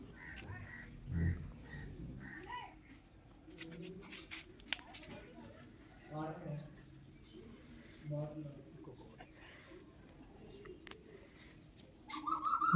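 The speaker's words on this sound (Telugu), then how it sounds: "బొప్పాయి చెట్టు ఉందండి అవి తినడానికి పక్షులు వచ్చినాయి ఓ అరుస్తున్నాయి" Crows caw intermittently with cuckoos calling nearby, drawn to a papaya tree, scattered faint calls over a quiet outdoor background with some soft activity.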